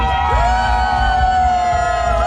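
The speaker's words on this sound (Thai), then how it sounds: "ขอเสียงชมรมขาล้อเชียร์เข้าภาพนี้หน่อยครับ" Running club members cheering at a mini marathon award ceremony, a loud steady crowd roar with whistles and high shouts blending over one another, close and sustained without a break.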